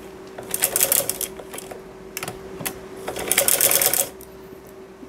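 A sewing machine stitches a pocket onto a salwar, running in two bursts of rapid mechanical whirring with a short pause and a brief tap between them, fairly close and with no talk over it.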